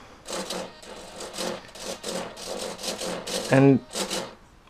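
Aileron servos on an RC plane whir in short repeated bursts inside a hollow wing, a buzzy mechanical sound close up, with a brief higher whine near the end.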